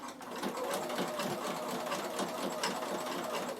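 A Bernina sewing machine stitches braid onto a linen cushion with a steady, quiet, rapid mechanical chatter that runs throughout.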